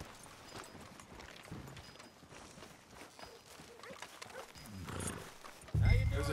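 Horse hooves clip-clop on a street in the Red Dead Redemption 2 video game, a faint, uneven plodding under ambient game sound, ending in a sudden louder low rumble.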